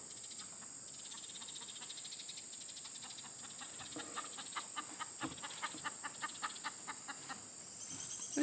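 Free-range hens in a backyard flock cluck in a series of short, rhythmic calls that build over several seconds against a steady bed of insect chirping outdoors.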